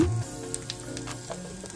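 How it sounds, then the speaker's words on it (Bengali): Panch phoron and asafoetida sizzling in hot oil for a Bengali fish curry, a soft, crackly frying hiss with scattered pops, fairly quiet and steady after a brief low thump at the start. "তেলটা গরম হয়ে গেলে এর মধ্যে 5 ফোড়ন, হিং,"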